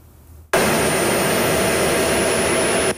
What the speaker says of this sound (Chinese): 以色列空军 KC-707 空中加油机替以军的主力 F-35I 跟 F-15 战斗机补充燃料